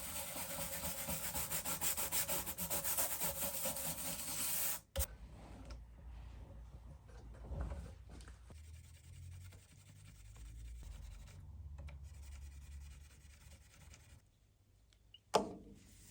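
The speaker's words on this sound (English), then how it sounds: "we've done our Fretboard cleaned, we've polished the frets and even given it a drink of lemon oil" Guitar fretboard being cleaned and frets polished: a near, continuous dry rubbing and scrubbing at first, then quieter intermittent wiping and handling with small knocks and a sharp tap near the end, no talk.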